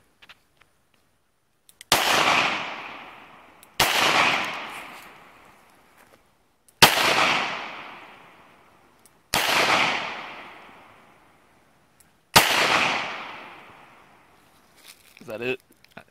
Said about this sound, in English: Go ahead and take a few shots at that can.